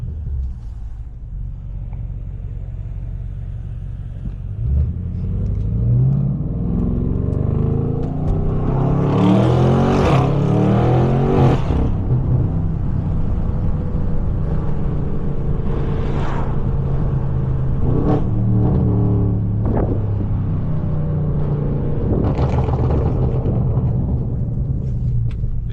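A BMW M550 car engine runs with a steady low rumble and rises in several revving surges, fairly close and continuous, with no talking.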